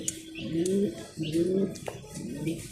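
Pigeons at a pigeon farm give low, throaty coos in repeated rising phrases, close and clear, with faint chirps and clatter in the background.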